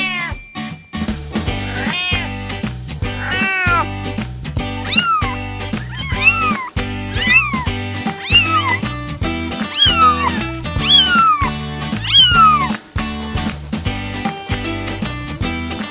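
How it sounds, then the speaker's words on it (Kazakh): Repeated cat meows, rising and falling, come one after another over a steady, rhythmic musical backing that plays throughout. "Ал бұл мысық."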